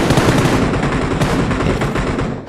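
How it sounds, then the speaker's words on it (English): Rapid automatic gunfire from a PUBG match rattles in a loud, continuous burst of dense overlapping shots with no pause. "from the sounds of the gunfire, we can hear the action heating up"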